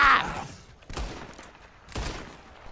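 Gunfire in the Red Dead video game, a few sharp shots spaced about a second apart, close and punchy with ringing tails, a brief shout at the start.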